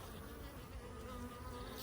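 Calm honey bees around a hive with fresh brood hum in a soft, even buzz for a moment, faint and continuous with no voices.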